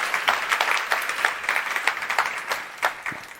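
An audience at a panel discussion on HIV applauds the panelists, a sustained crowd of clapping hands with fluttering peaks that fades slightly toward the end, with no voices over it.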